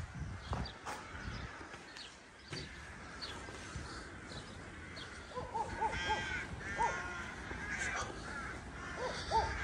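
Many birds call outdoors along a pilgrimage route between Žagarė and Buivydžiai in Lithuania, with crows cawing repeatedly and smaller birds chirping in a busy, moderately distant chorus, with no talk.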